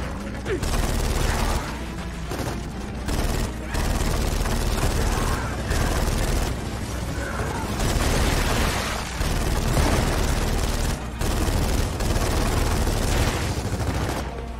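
Sustained, dense gunfire from a firefight in the video game Gears of War 4 fills the scene with loud, near-continuous bursts and brief pauses, with a voice talking over the shooting.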